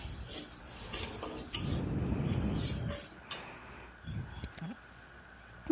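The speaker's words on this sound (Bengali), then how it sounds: "পরিমাণ মতো ধনে গুঁড়ো জিরা গুঁড়ো তারপর ভালো করে কষিয়ে নিতে হবে" Jackfruit with coriander and cumin powder is stirred and sautéed in a pan, giving a soft, low sizzle and scraping for about three seconds before it fades into near silence broken by faint clinks.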